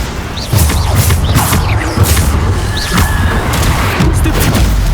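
Spell explosions from Bombarda in Hogwarts Legacy boom and crash repeatedly over a loud, dense battle din, with heavy thuds and impacts arriving every second or so throughout.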